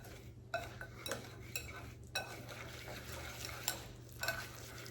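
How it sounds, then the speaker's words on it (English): Flour and brown sugar being whisked together for a pumpkin pecan pie, a quiet steady scraping with a few sharper clinks of the whisk against the bowl, faint over a low constant hum. "I'm just gonna whisk this together"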